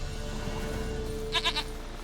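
A goat in The Witcher 3 lets out three quick bleats in a row, clear against a steady ambient game background.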